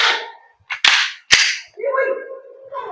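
An Umarex Glock 19 Gen 5 airsoft gas blowback pistol fires two sharp, close snapping shots less than a second apart, followed by a brief rattle and a voice speaking.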